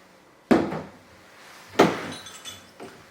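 Macaron baking tools are shifted about, giving two sharp clattering clinks about a second apart and a fainter knock near the end, close and alone.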